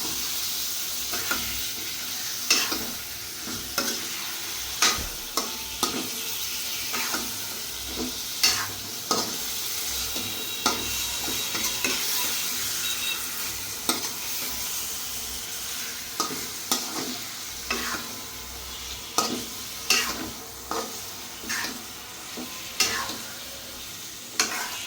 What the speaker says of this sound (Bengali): আমি এখন এভাবে কিছু সময় মাংসটা ভেজে নিব।